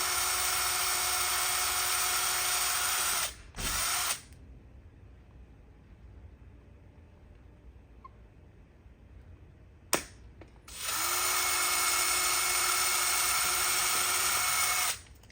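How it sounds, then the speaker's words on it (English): A power drill drilling through plastic whirs loudly for a few seconds, stops, then a quieter gap with a sharp click, and the drill runs again at full speed. "So I could drill all the way through because the screw does go all the way through."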